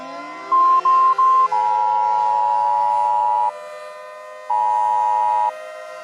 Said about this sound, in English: Sirens will sound when the information is about to broadcast.